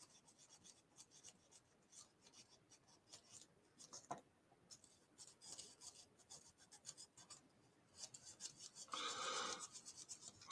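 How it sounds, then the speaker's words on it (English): A scratch brush scrubs the wheels and motor of a Tyco model train, a quiet, irregular rasping of short strokes that thickens into a denser, brighter burst of brushing near the end. "we'll clean the wheels on this and clean that motor real quick while we're here with our trusty scratch brush"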